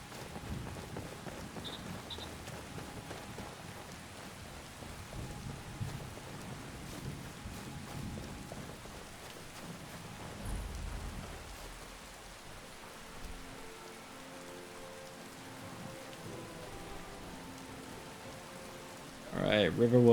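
Rain splashing on the ground in Skyrim, a steady soft hiss of falling rain with low rumbles like distant thunder, continuous throughout and joined by a brief louder clatter at the end.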